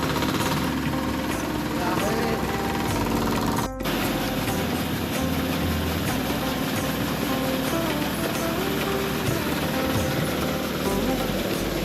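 A fodder cutting machine on a farm runs steadily with a loud, continuous mechanical drone and rattle, briefly interrupted once, while voices talk faintly over it.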